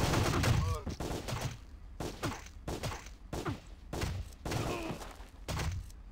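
Gunfire in the PC video game Sure Shot, a series of loud separate bursts of shots with short gaps between them, close and punchy, with some vocal sounds mixed in.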